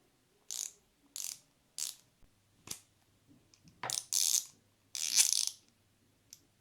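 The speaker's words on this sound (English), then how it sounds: "with the ratchet head you have a ratchet function too" A Wera ratchet head from a compact tool kit clicks in short separate bursts, several quick ratcheting runs with pauses between them, close and crisp with no voices.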